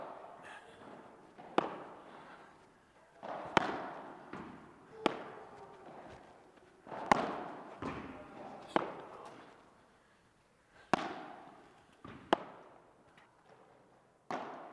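Padel balls are struck by rackets in bandeja volleys, about a dozen sharp pops spaced a second or two apart, each with a short echoing tail in a quiet court.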